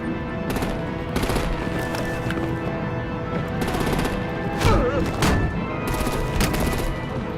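Rapid machine-gun bursts and heavy artillery blasts crackle through a Batman: The Enemy Within combat scene, with loud repeated volleys separated by short gaps and voices faintly mixed in.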